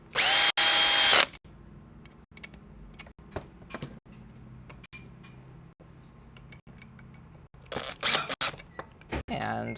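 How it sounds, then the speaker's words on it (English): Loud burst of a power drill running for about a second at the start while wiring switches and outlets for a desk, followed by quieter handling clicks, taps and a few short scrapes near the end. "Get these started, and then I'll grab a drill."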